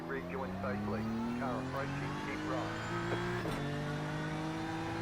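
BMW DTM race car lapping Spa in the iRacing simulator, its engine a steady loud drone that shifts pitch with gear changes and revs, with someone talking over it throughout.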